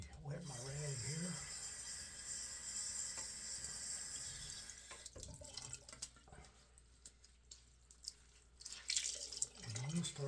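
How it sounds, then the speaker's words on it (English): A rag is wetted at a sink while shaving. Faint trickling and dripping water sounds come with soft splashes under quiet murmuring speech. "Let me wet my rag here."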